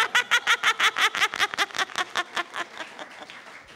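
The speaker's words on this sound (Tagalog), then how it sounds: "pumalakpak kayo lahat" A church congregation claps together in a steady, quick rhythm of about twenty loud, even hand claps that slowly lose sync and fade toward the end. No voices are heard over it.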